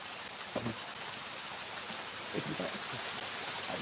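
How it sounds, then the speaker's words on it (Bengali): Steady broadband hiss of rain falling heavily, continuous throughout, with a few faint knocks and drips standing out briefly. "বৃষ্টি পড়তেছে প্রচুর"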